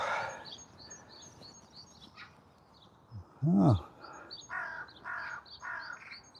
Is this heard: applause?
no